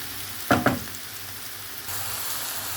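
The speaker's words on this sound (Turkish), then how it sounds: "Mantarı döktükten sonra tavanın ağzını hiç kapatmıyoruz." Sliced mushrooms fry in an open, uncovered pan, giving a soft, steady sizzling hiss after two sharp clatters, with no voices over it.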